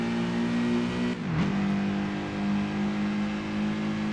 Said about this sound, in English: And now we can kind of hear the boxer engine a little more, as terrible as it sounds.